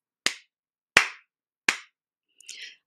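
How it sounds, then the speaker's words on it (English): Three sharp, separate hand claps at an even pace, close and clear against silence, followed by a short softer rustle. "And then you clap three times."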